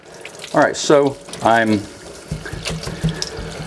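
Running tap water splashes into a sink as a paintbrush is rinsed under the faucet, a steady low rush rising after a man's brief speech at the start.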